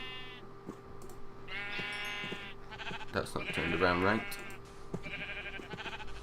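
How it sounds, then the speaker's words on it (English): Several bleats from sheep penned in a Minecraft Agrarian Skies modpack build, loud and close, sounding alongside a speaking voice and a steady background hum. "we've got 10 sheep in here."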